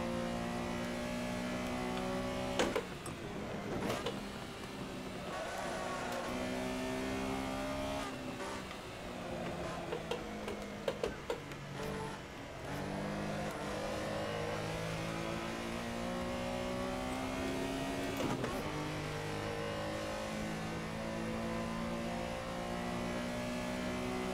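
Racing game car engine at Silverstone, revving up through the gears and dropping pitch on repeated downshifts, with a steady loud engine drone throughout and a few sharp transients, no talk.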